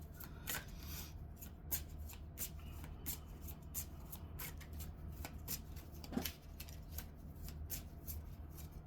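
Tarot cards are shuffled by hand for a reading, giving repeated soft riffling and flicking bursts at an uneven pace over a steady low hum, close and fairly quiet.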